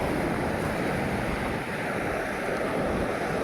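Waves wash over a sandbar at a river outlet at high tide: a loud, unbroken roar of surf close by, mixed with wind, with no voices.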